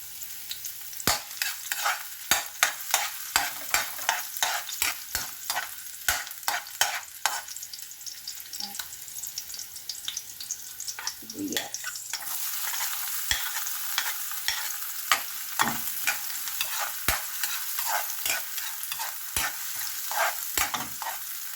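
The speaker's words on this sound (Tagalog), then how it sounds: "So, ilagay na natin ang ating bawang." Garlic sautéing in a pan for a shrimp and meatball bottle gourd stir-fry, with rhythmic clacking stirs over a soft sizzle that swells into a denser hiss partway through, no talking.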